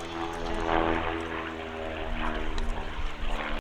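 A de Havilland Chipmunk propeller training aircraft flies at an air show display, its engine and propeller giving a steady, fairly loud drone with a gently wavering pitch throughout.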